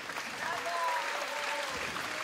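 An audience at a Polish cultural evening gives sustained, even applause with many hands clapping together, filling the room at a steady level for the whole moment.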